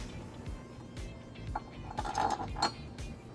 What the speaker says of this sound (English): we're going to start with our carriage bolts